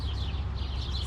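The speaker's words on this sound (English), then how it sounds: "Lots of bird chirping." Birds chirp outdoors on an early evening walk, several high tweets repeating over a steady broadband background, moderately distant, with no talking.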